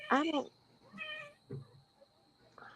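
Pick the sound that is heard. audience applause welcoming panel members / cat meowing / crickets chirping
cat meowing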